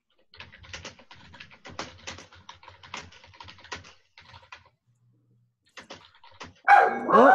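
A puppy indoors yips and barks in short bursts at the end, following a long run of close computer keyboard typing in a quiet room.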